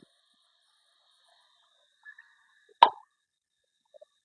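Crushed garlic and ginger dropped into a pan of egg curry, a single soft plop and sizzle in an otherwise near-silent kitchen, with a few tiny clicks before and after.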